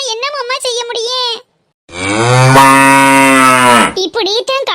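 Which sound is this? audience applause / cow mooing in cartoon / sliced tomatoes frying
cow mooing in cartoon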